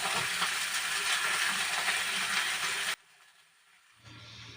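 Chopped bottle gourd drops into a pan of browned fried onions and sets off a loud, steady sizzle that breaks off abruptly partway through, leaving a faint hiss before a low hum comes in.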